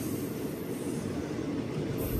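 Andaman Express, train No. 16031 from Chennai Central to Katra, running along the track, heard as a loud, steady rumble and roar of wheels and carriages, continuous and close, with no talk.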